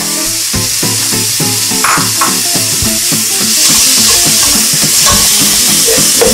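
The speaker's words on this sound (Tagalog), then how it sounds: "Igisa natin siya kasama ng sibuyas, luya." Pork sautéed with onion and ginger in a hot pan, a steady loud sizzle and frying hiss with repeated clanks and scrapes of stirring throughout.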